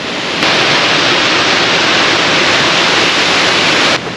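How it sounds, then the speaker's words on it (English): Double Falls on the Tumalo Falls trail near Bend, Oregon, a steady loud roar of rushing water that fills the air, close and unbroken, with no voices. "Another beautiful waterfall."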